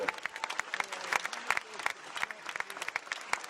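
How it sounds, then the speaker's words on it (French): Audience applause at an award ceremony for the winner of the Route du Rhum sailing race, dense steady clapping with louder individual claps, faint voices mixed in. "Merci Marc Guillemot, on applaudit."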